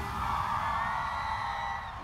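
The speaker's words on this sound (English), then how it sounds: "I want to hear all of you scream!" A live crowd at a business awards ceremony screams and whoops together in a sustained, loud roar that holds steady for about two seconds before easing slightly.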